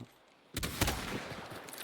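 Gunfire from Hunt: Showdown 1896 breaks in after a quiet half second, a rattling burst of several shots that sounds somewhat distant, followed by a lingering rumbling tail.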